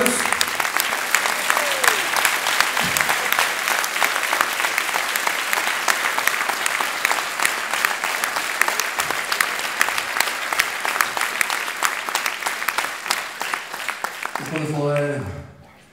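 Loud, sustained audience applause fills a hospital singing-show finale at Sykehuset Namsos, dense clapping throughout before fading as a sung or musical tone rises at the very end.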